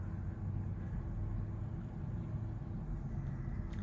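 A Tesla backs itself into a parking spot on Autopark, a steady low rumble of tyres and drivetrain filling the cabin, continuous and fairly quiet with no talk.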